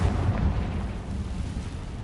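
A Confringo blasting curse in a Harry Potter video game bursts into a low, rumbling explosion that rolls on steadily at moderate volume.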